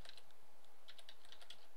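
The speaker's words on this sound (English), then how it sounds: "we get this search box appear instantly as soon as I start typing" Fingers tap out a search on a computer keyboard on a Windows 8 developer preview PC, a quick uneven run of light clicking keystrokes, close and clear over faint room hiss.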